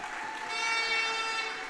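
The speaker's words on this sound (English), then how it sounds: "give him a special round of applause" Audience at a local government election village meeting applauding a minister, a short, faint, steady patter of clapping heard at a distance.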